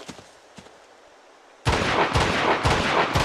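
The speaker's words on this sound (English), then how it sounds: "Who's shooting at us?" Sudden loud gunfire in Uncharted: Golden Abyss breaks out after a quieter stretch of faint jungle ambience, several sharp shots and bursts landing in quick succession, nearby and unaccompanied by speech.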